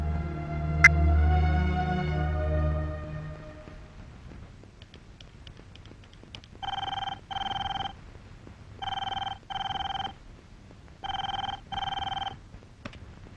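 A telephone rings at night in a Telugu horror-thriller film: after a fading musical tone, four evenly spaced double rings sound clearly with short gaps between them.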